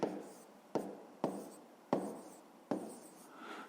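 A pen or pencil writes numbers on paper, close and quiet, in five short scratchy strokes at roughly even intervals.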